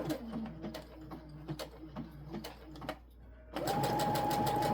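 A sewing machine stitches crop pants beside a pocket in short bursts of rapid clatter, then breaks into a longer, louder continuous run with a steady motor whine near the end.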